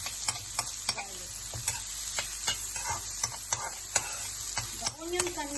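Onion and garlic sautéing in a pan, a continuous low sizzle broken by frequent sharp taps and scrapes of a utensil against the pan, close and moderate in level, with no clear talking.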